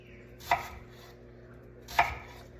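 A knife chops an onion on a cutting board for mushroom soup: two distinct, close chops about a second and a half apart, with quiet room noise between them.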